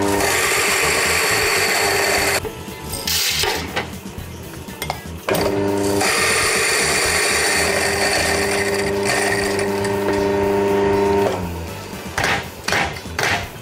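Coffee beans ground in a coffee grinder for house-blend milk coffee, a loud sustained grinding whir running in long bursts with brief pauses and stops between them, alone with no talk.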